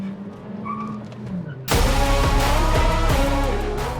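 A Hyundai Verna and a Skoda Slavia, both 1.5 turbo-petrol manuals, launch in a drag race: after a low idle, engines suddenly roar to loud high revs, a dense harmonic blare close by that climbs and holds.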